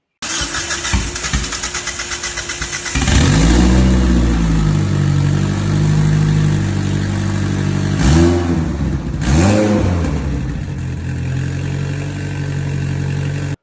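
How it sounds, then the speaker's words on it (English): A car engine cranks and fires up for its first start after a build, settles into a loud rough idle, then gets two sharp revs that swell and fall back. "They sent me a video of the first startup."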